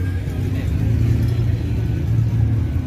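A vintage car engine rumbles steadily at a classic car meet, a low continuous idle held close and loud throughout without breaks.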